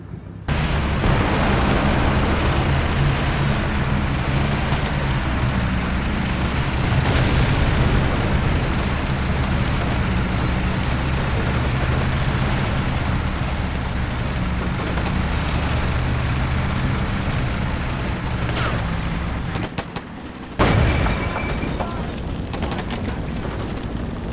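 Loud, dense rumbling blasts and roaring combat noise from a tank battle in the Combat Mission Black Sea game as a tank takes a hit to its front turret, continuous for most of the clip with a sharp burst near the end.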